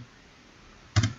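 A single key press on a laptop keyboard, used while editing audio: one short, close click that breaks a quiet stretch near the end.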